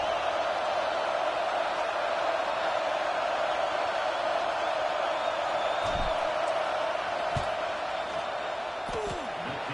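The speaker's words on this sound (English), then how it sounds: "This crowd trying to do its part to get inside the kicker's head." A football stadium crowd roars during a field goal try, a steady, dense wall of noise with a few faint thuds and shouts scattered through it.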